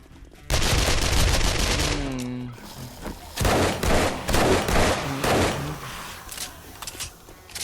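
Gunfire rattles in the video game 7 Days to Die in two loud, rapid automatic bursts separated by a short pause, with lighter echoing pops trailing off afterward.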